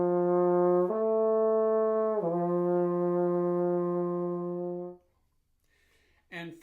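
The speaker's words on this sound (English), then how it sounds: "I'm going to do a very basic slur to my next harmonic" A horn holds a steady low note, then slurs upward to the next harmonic, a concert A, and sustains it before fading out; a single brassy tone, close and clear, followed by a brief breath noise.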